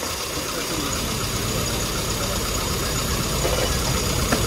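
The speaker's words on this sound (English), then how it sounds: "So now it's misfiring, right?" An engine runs steadily and loudly while misfiring on one cylinder, giving a continuous rough idle with a dense low rumble and faint irregular stumbles during a spark plug and compression tuning demonstration.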